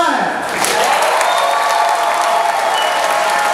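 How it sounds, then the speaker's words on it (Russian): Applause and some cheering from the crowd at an esports LAN final, a loud, sustained wash of clapping that swells in right away and holds steady throughout. "Ваши аплодисменты."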